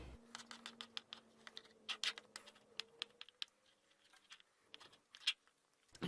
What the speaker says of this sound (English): Just cutting it into cubes here.